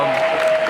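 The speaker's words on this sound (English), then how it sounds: "Please give them a big round of applause for those 2 players who made it into the final." A burst of audience applause for two tournament finalists at YCS Sheffield, a short, dense wash of clapping that fills the room for under a second with a faint steady tone underneath.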